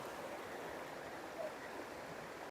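Steady rushing waterfall in the forest at the Thirumalai Nambi temple, a continuous broadband roar heard alone without break.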